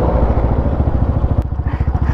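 A stock Bajaj RS200 motorcycle accelerates hard nearby. Its loud, throbbing exhaust pulses beat rapidly and climb in pace over two seconds.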